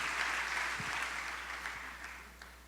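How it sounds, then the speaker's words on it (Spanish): A church congregation claps for the Lord during a Spanish-language sermon, a soft, distant patter of many hands that slowly fades out, heard alone without speech. "Le damos un aplauso al Señor"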